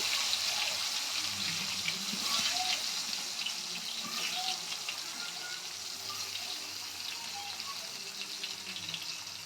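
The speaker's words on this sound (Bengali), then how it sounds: "এবার আমরা এক এক করে পটলগুলো ভেজে নেব" Slices of pointed gourd (potol) fry in hot oil over a lowered gas flame, giving a steady, close, watery sizzle that holds evenly throughout without pause.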